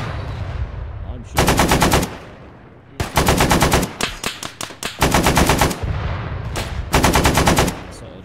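Automatic rifle fire in the military shooter game Arma 3, several loud close bursts of rapid shots separated by short pauses, with a few quick single shots in between and a faint background hum.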